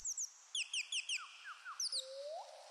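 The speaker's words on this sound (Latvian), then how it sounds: "Tur ir vēl papagailis." A parrot calls with a quick series of short, high chirps in small clusters, then a single rising whistle, faint and fairly distant in a quiet space.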